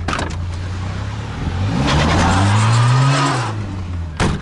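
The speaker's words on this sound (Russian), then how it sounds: "только правое колесо буксует" A car drifting on a wet road with its right wheel spinning, the engine revving up into a loud rising whine and wet tire roar that then falls away, heard close.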